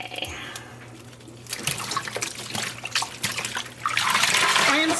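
Dyed yarn rinsed by hand in water, with trickling and splashing that start quietly, grow busier, and end in a steady pouring stream near the close.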